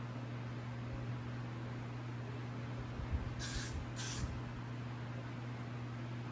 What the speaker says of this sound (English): Spray them down.